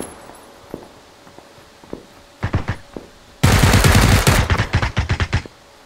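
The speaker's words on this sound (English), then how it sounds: "Oh, he's shooting at you." Gunfire in the military shooter game Squad: a few sparse distant shots, then short rapid bursts, then a loud, sustained close-range barrage of automatic fire, with no talking.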